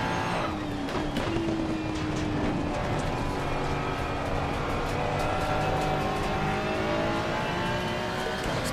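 A race car in Assetto Corsa Competizione at Watkins Glen, engine screaming continuously with rising and falling gear pitches, a constant loud whine and rumble with no talking.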